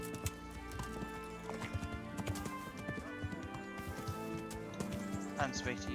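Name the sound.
horse hooves clip-clop, from video game Kingdom Come: Deliverance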